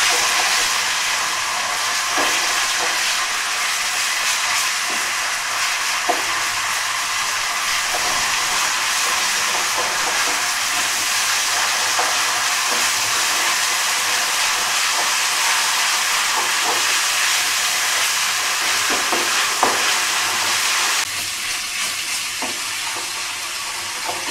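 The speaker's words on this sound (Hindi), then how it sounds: "लहसुन अदरक हमने डाला, ये जब लाइट ब्राउन सा हो जाएगा तो फिर हम बाकी मसाले इसमें डालते हैं।" Garlic and ginger fry in a pan while chops are being cooked, giving a steady, loud, close sizzle with faint stirring clicks for the whole stretch and no talk.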